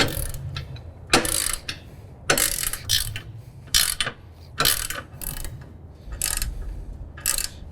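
A ratchet on an extension tightens nuts on a front jack kit for a John Deere Z5 zero-turn mower, giving repeated quick clicking bursts in short strokes with brief pauses between them, close up and without talk.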